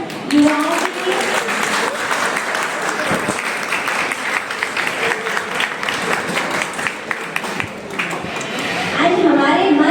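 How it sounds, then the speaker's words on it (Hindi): A crowd at a women's association awareness gathering in Ajmer applauds the youth, a thick continuous wash of clapping with sharp individual claps standing out, loud and sustained, with voices rising near the end. "तो एक बार अपने लिए तालियां युवाओं के लिए"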